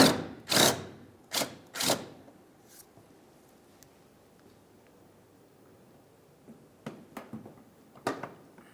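Ratcheting and clicking from a wrench loosening 10mm-headed bolts on the corner of a 2002-2006 Honda CR-V bumper cover, with a few sharp clicks at the start, a quiet lull, then another short cluster of taps near the end.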